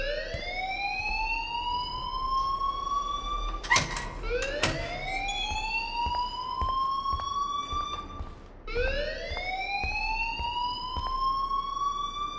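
A fire alarm in the video game Life is Strange wails steadily, its rising siren-like sweeps repeating loudly and up close, broken briefly by a couple of sharp clicks partway through.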